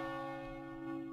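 A church bell in World of Warcraft rings with a single steady, sustained tone that hangs at moderate level without a clear new strike.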